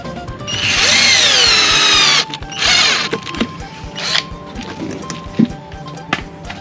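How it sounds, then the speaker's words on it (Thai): A power drill drives screws into a car tire being made into a vegetable planter, whirring loudly and steadily for about two seconds, then a shorter burst, followed by quieter clatter and knocks. "นี่ง่ายครับผมสว่านยิงง่ายเลยครับ"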